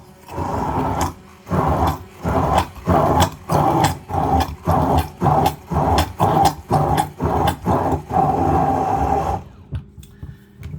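A blender blasts garlic gochujang mayo in about a dozen loud, close pulses of roughly half a second each, separated by brief gaps, then a longer run before it cuts off.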